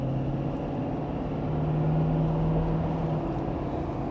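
A 2026 Ford F-350 Platinum pickup truck in third gear accelerates gently, a low engine drone with a tone that rises steadily in pitch, moderately loud and without talk.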